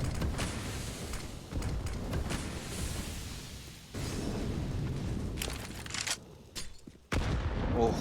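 Grenade explosions and rapid gunfire in a professional Counter-Strike esports match, with several loud booming blasts over dense, continuous shooting.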